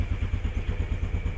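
A Suzuki Skydrive scooter's engine runs nearby in a short burst of rhythmic low-pitched pulsing, with mechanical clatter over the throb.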